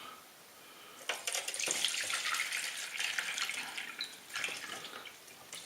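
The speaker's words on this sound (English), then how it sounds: "So what I'm going to do is tip this into a sieve, but keep the juice." Fermented chilli mash is tipped into a sieve, its juice draining and splashing in a quiet, trickling pour that begins after a second and continues with dripping and spattering bursts.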